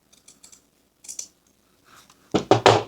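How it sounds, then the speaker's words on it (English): Fabric quilt pieces for chocolate-dipped strawberry blocks are cut along drawn lines: a few faint, quick snips first, then three louder, close crisp cuts in a tight cluster at the end. "We're going to cut these on our drawn lines."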